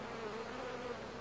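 Honey bees swarm over an opened beehive during a summer honey harvest, the colony started from a recaptured swarm. Their dense, steady buzzing hum stays close and even throughout, with no voices.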